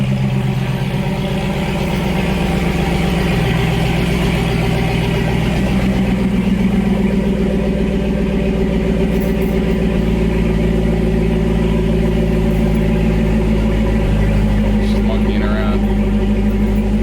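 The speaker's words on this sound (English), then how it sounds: "You should get in there and rev it up." A 2020 Dodge Durango R/T V8 with a Borla S-Type cat-back exhaust, a loud, deep, continuous engine rumble nearby that swells and eases a few times, with people talking over it.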